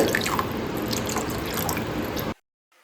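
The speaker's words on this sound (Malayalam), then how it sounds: "ഇനി ഞാൻ ഇതിലേക്ക് തേങ്ങാപ്പാലാണ് ഒഴിച്ചു കൊടുക്കുന്നത്." Coconut milk poured into a Kerala-style prawn curry, giving a steady wet, trickling pour for about two seconds that stops abruptly into silence.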